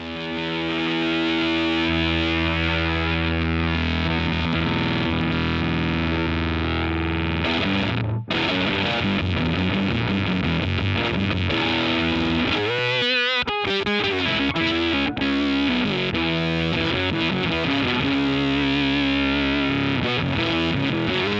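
Thick, distorted electric guitar through a RedBeard Effects Honey Badger octave fuzz pedal, strong octave-up fuzz tone playing sustained riffs, loud and continuous with a short break midway.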